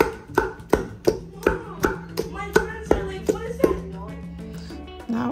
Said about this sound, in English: that is why I'm pounding it exactly the way grandma will